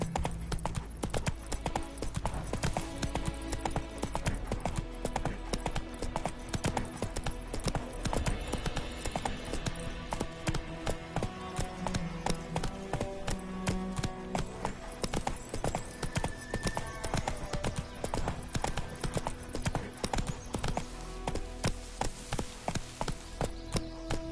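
A horse's hooves clip-clop at a steady gait during riding in the video game Witcher 3, close and constant for the whole stretch over game background sound.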